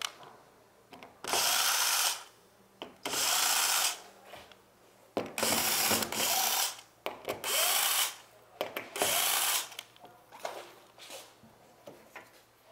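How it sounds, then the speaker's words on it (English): A power drill backs screws out of the metal channel on the underside of a mini theater booth floor that has been flipped over, running in repeated bursts of a few seconds with short pauses between them and ratcheting clicks. "we're going to just take out all the screws"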